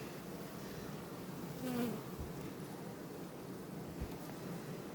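Ukrainian honeybees buzz in a dense, steady hum all around a lifted hive frame, fairly soft, with no voices.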